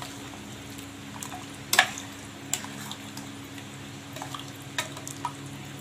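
Water begins to boil around the edges of a pot of basmati rice mutton biryani, giving a faint, low simmer broken by scattered soft bubbling pops and one sharper crackle.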